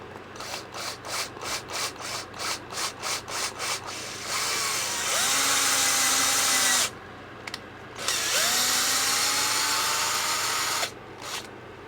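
A rapid series of short rasping bursts gives way to two sustained, close power driver whirs as a screw is driven for a blind bracket, with brief pauses between.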